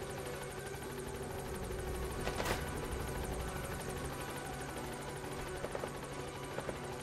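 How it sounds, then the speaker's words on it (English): A helicopter in Metal Gear Solid V: The Phantom Pain thrums with a dense, steady rotor and engine roar close by, loud and continuous, with brief louder bursts. "That's loudspeakers on the chopper right there."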